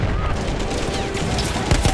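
Rapid gunfire bursts from a Battlefield 1 World War I battle, dense and continuous with louder close shots near the end, under a busy wash of combat noise.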